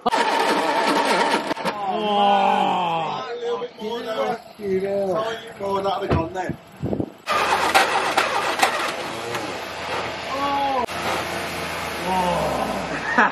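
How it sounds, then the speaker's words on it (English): A 1969 Ford Capri barn find, long unused, cranks and tries to start, its engine noise rough and sustained in the second half after people talk nearby. "I might need him to rev that engine."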